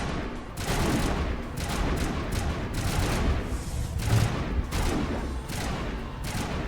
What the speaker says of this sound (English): I think Ashley's shooting at something that's hiding